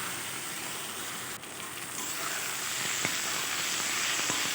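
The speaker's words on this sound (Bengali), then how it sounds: "পেঁয়াজটা আমার সুন্দর ভাজা হয়ে গেছে" Onions fry in a small amount of oil, giving a steady, even sizzle and hiss close by, with a couple of faint clicks and no talking.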